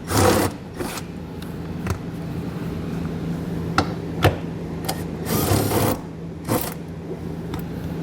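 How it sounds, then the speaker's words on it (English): A socket wrench ratchets out 15mm seat bolts on a 2021 Jeep, giving a few sharp clicking bursts over a steady low hum, close and fairly loud. "So we'll grab our socket and get those removed."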